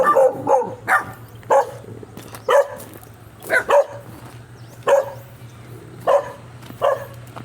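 A dog barks in short bursts, about a dozen sharp barks in loose pairs and singles, over a steady low electrical hum, in a rural farm setting.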